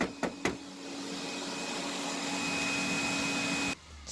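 Steady, loud rush of air roars through a condo's long dryer vent line during vent cleaning, a broad whooshing drone that follows a couple of sharp knocks and cuts off abruptly near the end.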